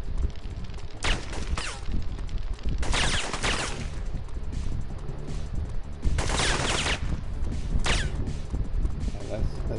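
Gunfire rings out while shooting enemies in Syphon Filter, coming as several loud clustered bursts of shots over background game sound, with a voice talking alongside.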